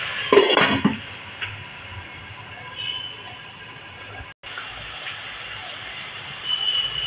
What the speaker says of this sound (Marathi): तर जरा झाकण ठेवते